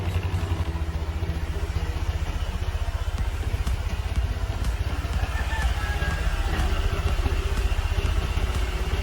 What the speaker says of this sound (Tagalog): paandalin na nga natin siya at least 30 minutes para kumalat yung kanyang langis sa buong makina